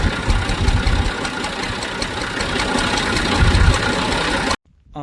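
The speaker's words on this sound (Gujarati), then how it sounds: "આપણે આવી ચડી ગયા હે ટ્રેક્ટર ઉપર" A tractor engine idles loudly and steadily nearby with a rough, knocking rumble, then cuts off abruptly just before the end.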